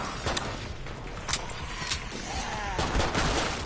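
Gunfire in the video game Killing Floor 2 comes as several sharp bursts and a rattling volley of shots, with no talk over them.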